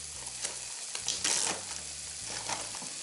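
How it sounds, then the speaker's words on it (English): Cooked red beans tipped into a pan of simmering butternut squash, soft wet tumbling and scraping over a steady sizzle, with a low mechanical hum running underneath. "I'm going to add the beans"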